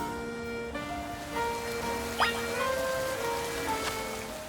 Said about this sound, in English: Huh, it started raining.